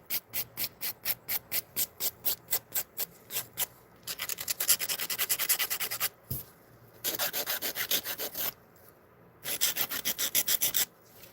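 Acrylic nail being shaped with an 80 grit file: quick, evenly spaced rasping strokes at first, then longer runs of fast scraping in bursts separated by brief pauses, close and clear with no talking.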